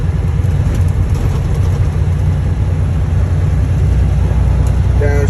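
A semi truck engine downshifting on the road, a loud, heavy low rumble heard from inside the cab, droning steadily throughout with no voices.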